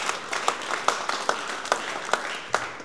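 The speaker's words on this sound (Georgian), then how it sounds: "აპლოდისმენტები გთხოვთ" Audience applause at a Georgian fight press conference: a run of spaced, sharp clapping bursts at a steady pace from a modest crowd, fairly distant, with no talk over it.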